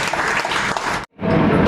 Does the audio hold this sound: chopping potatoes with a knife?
no